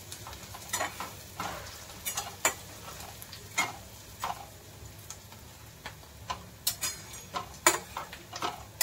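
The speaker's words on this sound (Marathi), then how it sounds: "आता कांद्याला थोडं चांगलं भाजी घेऊया।" Onions frying with curry leaves in a pan for Khandeshi sev bhaji, soft sizzling with frequent stirring clicks and scrapes of a spoon, fairly quiet and close.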